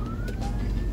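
Ambulance siren in Minsk traffic, a sweeping wail fairly close and loud over the steady rumble of passing cars, sustained throughout.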